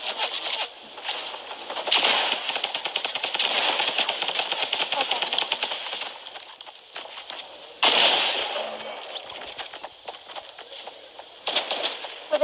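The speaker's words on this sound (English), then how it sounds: "Drum gun, sir." Rapid rattling bursts from a drum gun in an online shooter game, several quick volleys separated by short pauses, fairly close and moderately loud.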